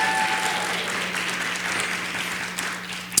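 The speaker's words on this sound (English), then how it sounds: "We can give her a round of applause, absolutely." An audience gives a round of applause at a school mental health event: sustained, fairly loud clapping from a room of people, with a sharp louder clap near the end.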